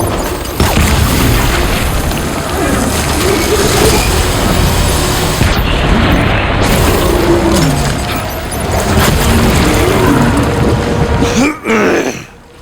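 A grenade detonates in the video game Death Stranding, a loud sustained boom and rumble filling most of the clip before cutting off near the end.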